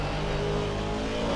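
GT3 race cars, including Aston Martins, run at Donington in the Assetto Corsa Competizione racing game; a loud, steady engine drone holds without a break, close and continuous.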